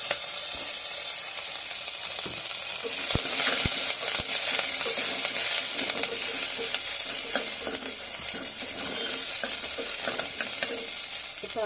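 Cumin, green chili and garlic frying in hot oil in a pan, a loud, steady sizzle with crackles and occasional stirring knocks throughout.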